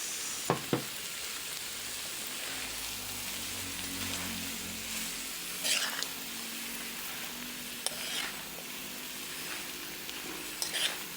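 Small cut pieces of pinakas dried fish are stirred in a hot pan, a steady gentle sizzle broken by a few sharp scraping knocks of the spoon, close by and without talking.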